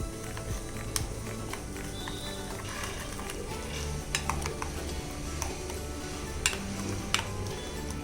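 Semolina and yogurt stirred together in a bowl with a utensil, giving a steady run of soft scraping and clinking against the sides, close and moderately quiet, with a few sharper taps.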